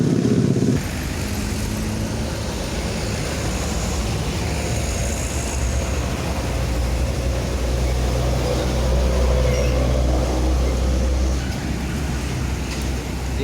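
An ANS intercity bus on the Padang–Jakarta–Bandung route passes along a Sumatran road in the morning. A loud, steady engine and tyre roar holds close by for several seconds, with low rumbling and wind noise.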